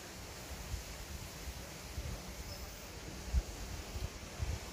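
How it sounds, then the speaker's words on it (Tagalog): Faint, distant sea waves washing continuously at a seaside spot in Bintan, Indonesia, a soft steady surf rumble mixed with light wind noise and no clear voices. "Ang maririnig mo lang is yung tunog ng dagat."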